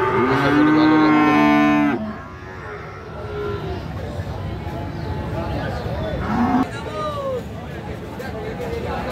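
At a busy cattle market in Aotapara, Ishwardi, in Pabna, Bangladesh, a cow lets out a loud, close, drawn-out moo, then a steady hubbub of voices and market noise carries on.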